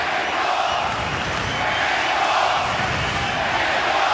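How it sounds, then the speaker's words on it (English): Dense, roaring crowd noise from a boxing audience at the MGM Grand Garden Arena, sustained and loud throughout with a constant wash of cheering and shouting. "the crowd is really into it here at the MGM Grand Garden Arena"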